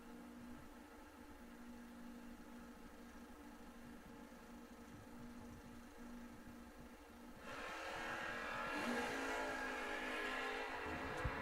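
Camaro with a 574 engine at a drag race: a steady, moderately distant engine drone with a low idling pulse, then a louder roar as the car launches and accelerates, continuing to the end without talk.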